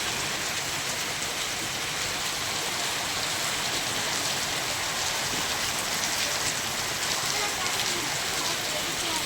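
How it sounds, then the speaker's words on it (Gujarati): Steady rain falls after a hot day at a farm, a dense, unbroken hiss that stays even and fairly loud throughout with no pauses. "હવે વરસાદ ચાલુ થયો રાગે રાગે"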